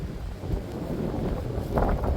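Strong wind blows across an outdoor pine-tree transplanting site near a mountain, a steady low rumbling buffet on the microphone that swells slightly toward the end, with no talking.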